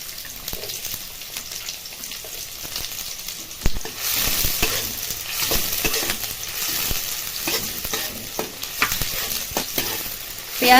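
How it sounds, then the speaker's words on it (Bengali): Chopped onion frying in mustard oil with whole cumin seeds, a dense, loud, continuous sizzle with scattered crackles and a few stirring knocks, close up and without any voice. "পেঁয়াজটাকে ভালো করে ভেজে নিতে হবে"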